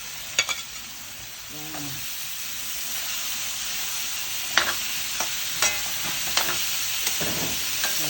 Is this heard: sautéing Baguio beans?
yes